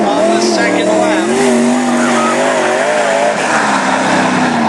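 A race car roars through a national qualifying lap at Cottage Grove, its loud engine note rising and falling steadily close by, with an announcer talking over it.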